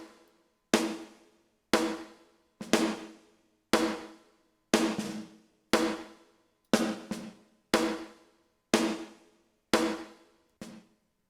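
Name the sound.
1980s gated reverb drums demo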